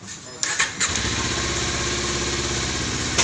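A Kawasaki 400cc ABS motorcycle engine starts after a brief crank, then settles into a steady, close idle with a low rhythmic pulse, with a few clicks at the start.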